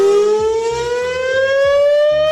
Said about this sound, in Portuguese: Mas, cara, que doideira essa sirene, meu irmão.